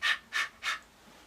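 A voice imitates panting with three quick, breathy exhalations in an even rhythm, close and soft, followed by quiet.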